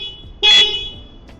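A CFMOTO 675SR-R motorcycle's alarm, set off by the key fob's seek button, gives a single loud, short electronic chirp, with a faint second blip just after, over a quiet background.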